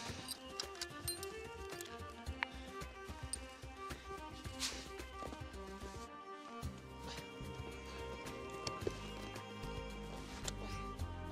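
Horse hooves clip-clopping while a horse is readied to pay out a master line, a faint, fairly steady patter of hoofbeats heard under louder background rumble and clatter, with no clear talk.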